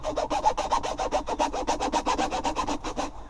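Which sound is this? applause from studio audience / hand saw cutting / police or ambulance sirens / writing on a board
hand saw cutting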